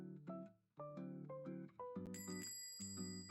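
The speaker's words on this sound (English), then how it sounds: "Cafe bell rings throughout the room." A cafe door bell rings in a series of bright, chiming tones, stepping through several pitches with a clear, sustained ring at a moderate level.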